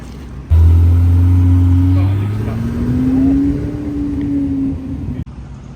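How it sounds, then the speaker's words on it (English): A Porsche 918 hypercar drives past on the streets of Monterey, its loud engine note rising and holding steady, then fading over several seconds amid street noise. "918 coming back around."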